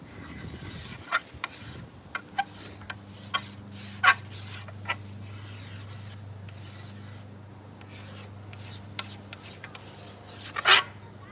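Hand scraper chattering against a maple selfbow during tillering: faint scattered rasping skips and a few sharper ticks over a steady low hum, with no talking.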